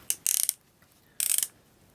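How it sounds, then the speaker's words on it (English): A 3/8 inch cordless ratchet ratcheting in two short close bursts of rapid clicking, separated by a quiet pause, with no talk. "Ratcheting."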